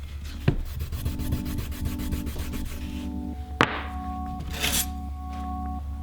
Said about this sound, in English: Now I'm just putting some pressure down and pulling on the strap.